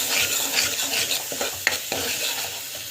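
Tomato thokku fries in a pan with a constant hiss and sizzle while a spoon stirs it, giving a few distinct scraping knocks against the pan, close up and with no talk.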